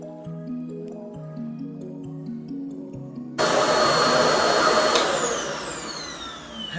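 A RevAir blow dryer on its cool setting starts halfway through with a loud, steady airy whoosh, following a quiet stretch of soft background music.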